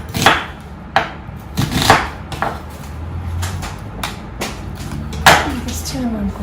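A food processor pulses a batch of onions for a cilantro mint chutney in a home kitchen, several short loud bursts with brief chopping clatter between them, separated by quieter stretches.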